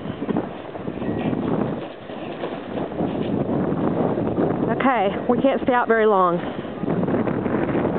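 Wind blows steadily through a snowy street during a blizzard, a broad constant roar buffeting the microphone, with a person talking briefly over it near the end.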